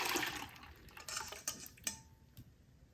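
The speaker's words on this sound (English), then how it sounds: "pour it through this strainer." Melted butter poured through a metal strainer into a pot, a soft liquid trickle with light clinks of metal against the pot, quiet and close, fading out toward the end.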